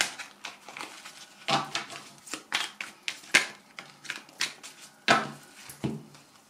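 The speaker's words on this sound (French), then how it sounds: "On va prendre une deuxième carte." Tarot cards are drawn and handled from a deck, giving a series of crisp, light papery snaps and shuffling flicks at an irregular pace, close and fairly quiet, with no voice.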